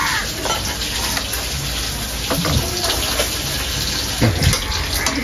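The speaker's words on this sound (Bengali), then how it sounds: "চাল তো ধুয়ে নিয়েছি, এখন পানি দিয়ে আধা ঘন্টা ভিজিয়ে রাখবো।" Water poured over washed rice to soak it, a loud steady rushing splash like a running tap that continues throughout, with a few brief knocks and no talking.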